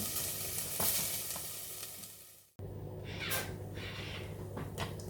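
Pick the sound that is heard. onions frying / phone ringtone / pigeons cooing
onions frying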